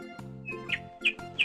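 A myna bird at a cafe in Mount Gravatt, Brisbane gives a few sharp chirps and squeaky calls, close and clear over quiet background.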